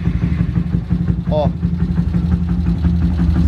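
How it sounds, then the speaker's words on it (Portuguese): A motorcycle engine with an adjusted throttle idles in a steady, low, rumbling chug that sits close and loud, with a brief spoken interjection near the middle. "Então vou dar partidinha na moto aqui pra vocês verem"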